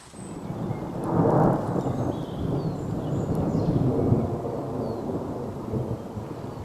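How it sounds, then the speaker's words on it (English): Deep thunder rumbles and rolls through a misty thunderstorm, a loud low swell building early and sustained across the whole stretch with steady outdoor noise and no voices. "You can probably hear the thunder in the background."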